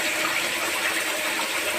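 Water floods down through a house ceiling in a steady, loud, close rushing gush that pours without a break.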